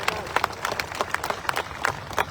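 A mushaira audience in Mumbai claps in a quick, uneven patter of many hands at moderate loudness, with voices audible underneath.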